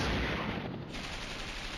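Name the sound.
gunfire in Flashpoint Campaigns: Red Storm video game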